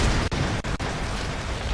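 A loud, dense explosion roar fills a Tomb Raider in-game cutscene, a continuous broadband blast with a few brief dips, heard alone without talk.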